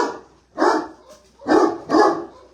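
A dog barking outside on a farm: three loud, close barks in quick succession, the first alone and the last two nearly back to back.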